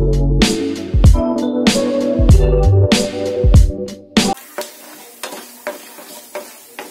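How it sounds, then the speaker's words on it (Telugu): Peanuts and cashews with tempering seeds fry and sizzle in hot oil while being stirred, with loud scraping strokes of a utensil against the pan at first, then quieter crackling frying with occasional taps. "ఆయిల్ హీట్ అయిందండి ముందుగా వేరుశనగ గుళ్ళు మీరు జీడిపప్పు ఉంటే జీడిపప్పు వేసుకోండి"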